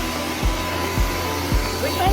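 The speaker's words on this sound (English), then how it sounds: "Get the vacuum up" A vacuum cleaner runs steadily in a living room, a loud close whirring drone with rhythmic thumps every half second or so as it is pushed back and forth.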